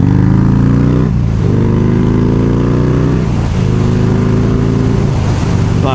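A Hammer 1275 kit engine at about half throttle, running loud and steady. Its pitch rises in a few repeated revving pulls, each swelling and easing back, with no voices.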